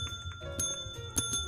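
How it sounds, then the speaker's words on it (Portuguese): A bell block in the Minecraft video game rings in a quick run of bright, metallic dings over soft background music, fairly quiet and played as a little tune. "Eu vou fazer uma música na campainha."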